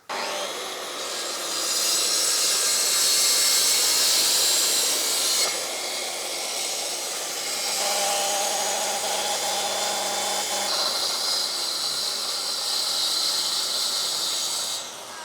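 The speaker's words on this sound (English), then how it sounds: "So I'm going to cut as deep as I can with the track saw" A track saw cuts through the end of a wooden workbench, a loud, sustained whining rasp that runs for several seconds, eases briefly, then continues in a second long cutting pass with a lower motor note underneath.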